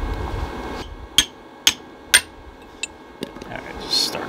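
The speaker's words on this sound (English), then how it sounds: "All right, how about getting a real hammer, John?" A hammer strikes metal in a workshop while pallet forks are being repaired, making several sharp clinks and knocks spaced unevenly over a low background hum.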